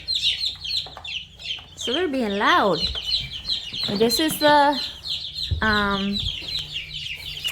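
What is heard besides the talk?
chickens clucking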